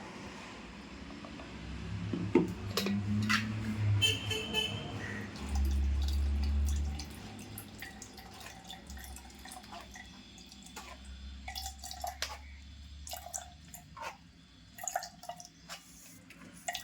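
Coconut milk drips and trickles into a container as it is strained, with scattered small clinks and handling noises, close by and fairly quiet, no talking.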